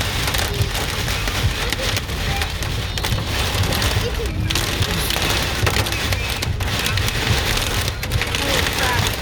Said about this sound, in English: This hail is so big.